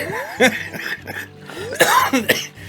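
A person coughs in short harsh bursts, two clusters of hacking mixed with strained throat sounds and a bit of laughter, close to the microphone.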